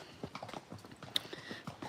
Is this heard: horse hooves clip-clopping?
yes